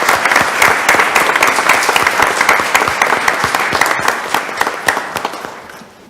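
Loud, steady applause from the audience at a High Point city council meeting, honoring volunteers for their many service hours, with dense clapping that continues throughout and thins slightly toward the end.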